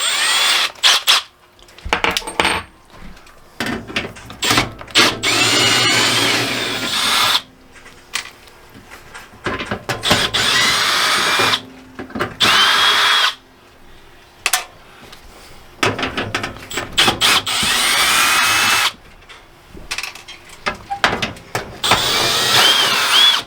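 A power drill runs in repeated long bursts, stopping and restarting, as it backs out the four screws holding a cover in place; the whine is loud and close, with short quiet gaps between runs.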